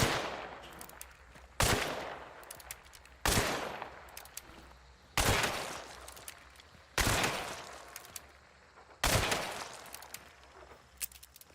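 Six pistol shots are fired at idle targets in a video game, sharp single cracks spaced evenly about two seconds apart, each fading quickly into quiet.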